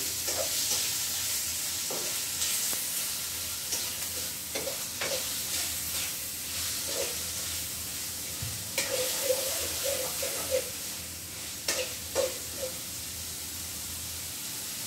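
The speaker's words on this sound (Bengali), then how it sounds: "লবণ দিয়ে নিচ্ছি, সেটা ফাটা লবণ দিয়ে একটু নাড়াচাড়া করে দিই" Food in a pan being stirred after salt is added, with a steady sizzle under repeated spatula scrapes and taps against the pan.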